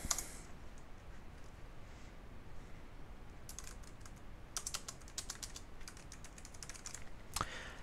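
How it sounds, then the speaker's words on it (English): Quiet keystrokes on a computer keyboard come in loose clusters over faint room hiss, typing a new line of text in Adobe Illustrator, with no voices. "I would like to type another line."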